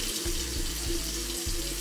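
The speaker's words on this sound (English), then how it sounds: "I don't like the running, the running water." Water runs steadily from a faucet in an apartment sink, a constant close splashing rush with no voices.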